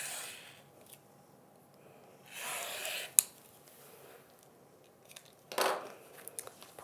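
Scissors cutting embroidery fabric pieces for machine appliqué blocks, a few faint rustling cuts spread apart, with a sharp click and a brief louder swish of cloth, quiet and close.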